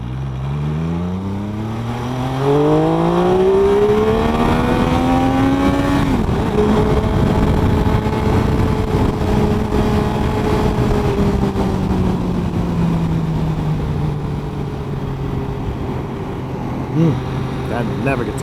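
An MV Agusta F3 800 motorcycle engine revs up close, climbing sharply from idle to a high whine, then holding and slowly easing off in a loud, sustained drone.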